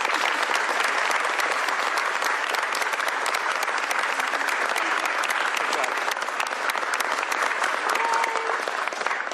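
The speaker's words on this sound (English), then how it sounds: "Huge round of applause for the Liz team on this work." Sustained applause from a crowd at a governor's bill signing, dense clapping that stays loud and even throughout the clip.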